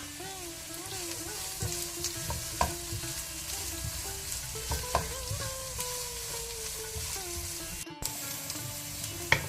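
Onions frying in oil for a pork pepper fry, a continuous close sizzle with intermittent stirring scrapes and clinks of a spoon against the pan, with faint household sounds behind.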